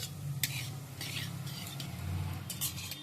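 Bay leaf and whole cumin fry quietly in a few spoons of mustard oil, a soft, faint sizzle broken by occasional light clinks and scrapes of a utensil against the pan.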